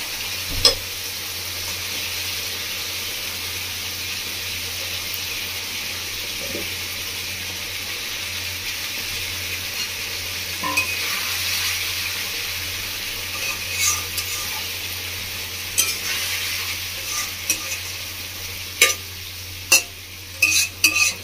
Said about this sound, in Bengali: এর মধ্যে ভেজে রাখি মশলাটা